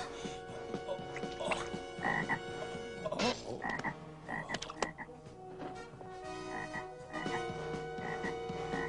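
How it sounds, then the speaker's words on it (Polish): Frogs croak over and over in the plague-of-frogs scene of an animated Bible story about Moses, with a dense chorus of close, loud croaks throughout. "Zesłał plagę żab!"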